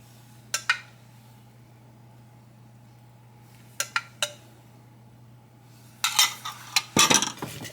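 A spoon clinks against dishes while apples are tossed with lemon juice: a few isolated sharp taps early on, then a busy flurry of clattering near the end, close and clear over a quiet hum.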